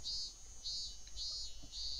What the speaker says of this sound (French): les cigales chantaient comme d'accoutumé au Japon